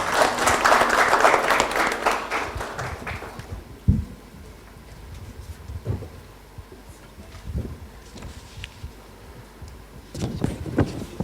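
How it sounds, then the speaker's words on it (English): Brief, dense applause from a summit audience welcoming a government keynote speaker lasts about three seconds, then fades into microphone handling thumps and room noise. "Welcome him with a huge round of applause."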